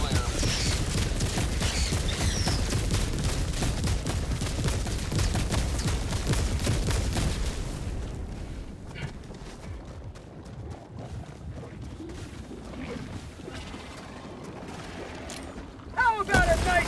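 Artillery barrage in Helldivers 2 pounds a bug outpost: dense, continuous volleys of booming explosions and rattling fire for about eight seconds, then sparser, quieter blasts and debris until a sharp loud burst near the end.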